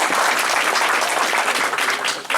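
Applause from an audience on a winter behind-the-scenes tour of the Hersheypark maintenance service center, loud, dense and continuous clapping close by, fading a little at the end.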